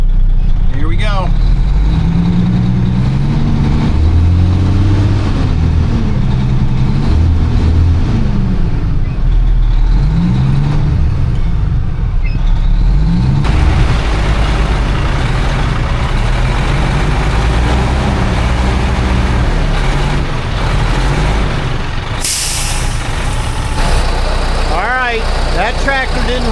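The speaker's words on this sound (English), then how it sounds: "so I got the 6115D John Deere hooked to the truck" A John Deere 6115D tractor strains to pull a stuck truck, its heavy engine droning and revving loudly and close by, with other engine noise mixed in and people talking over it.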